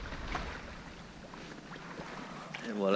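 A sailboat motors out of the Gulf of Campo off Elba, its engine a faint, steady low drone buried under wind buffeting and gentle water wash, rising slightly at the end.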